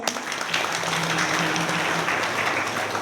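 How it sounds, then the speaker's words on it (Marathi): Audience applauding at a kirtan, a Marathi devotional music-and-discourse gathering, with steady crowd clapping sustained through the moment and no voices on top. "खरंच त्यांच्यासाठी सुद्धा एकदा टाळ्या होऊ द्या."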